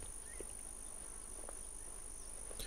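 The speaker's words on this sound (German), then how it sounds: "das Grillen zirpen ist voll laut" Crickets chirp in The WarZ, a steady high-pitched ambient trill that runs unbroken through the game's outdoor soundscape, with a few faint incidental clicks.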